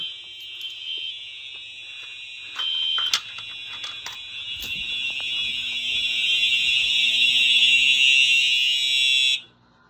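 A loud, continuous electronic tone from a System Sensor SpectrAlert Classic fire alarm blares steadily, with a brief click and shift partway through before it abruptly cuts off.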